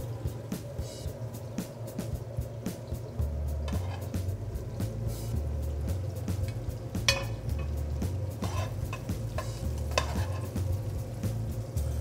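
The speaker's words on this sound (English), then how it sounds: "Sauté zucchini." Zucchini sautéing in a pan makes a steady, close sizzle with occasional stirring clinks and scrapes, continuous throughout and with no one talking.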